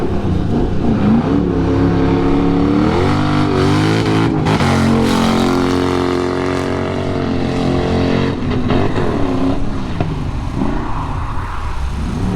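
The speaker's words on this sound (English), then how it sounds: "we got the Corvette coming up next" A Corvette drift car's engine roars loudly at a drift event, revving and shifting pitch with sustained, rising and falling bursts at close range.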